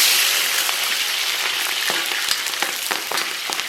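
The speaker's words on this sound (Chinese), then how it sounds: "咱们把葱姜放到里边爆香。" Chopped scallion and ginger fry in a little oil in a wok, giving a steady bright sizzle with scattered pops and crackles. No one speaks.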